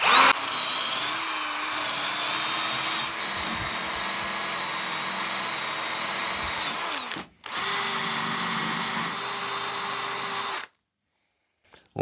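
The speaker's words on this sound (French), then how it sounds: "je passe la brosse métallique légèrement dessus" A motorized wire brush scrubs lightly over an old pair of scissors, a steady whining buzz that runs for about seven seconds, cuts out briefly, then resumes before stopping into silence.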